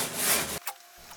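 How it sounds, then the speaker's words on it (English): Abrasive sanding scrubs loudly and closely across the hull of a homebuilt camping catamaran, smoothing the area around the hull joints. The rough rubbing runs for about half a second, then stops abruptly. "I use the opening to sand the front."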